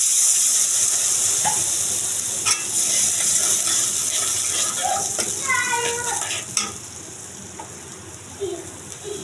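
Water is splashed into cumin and ginger-garlic paste frying in a pan for a potato-and-fish curry, giving a steady close hiss and sizzle with a few light clinks, while a voice speaks faintly in the background.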